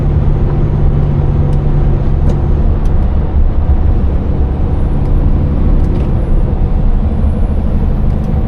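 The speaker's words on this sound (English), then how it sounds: "you're getting overtaken by a truck and trailer" A truck pulling a trailer overtakes a car on the road, heard from inside the car as a loud, sustained engine drone and heavy road roar with a steady low hum throughout.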